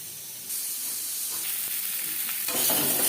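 Boiled potatoes rubbed with salt and turmeric sizzle in hot oil, a steady close hiss that swells in brief bursts as the pieces shift in the pan.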